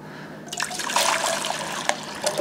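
Hot water runs from a tap into an ultrasonic cleaner tank, a steady close trickle and splash that starts after a brief quiet moment and keeps flowing to the end.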